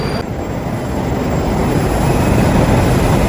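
A Moscow metro train in an underground station, heard as a steady, loud, continuous rumble and roar with no pauses and no voices.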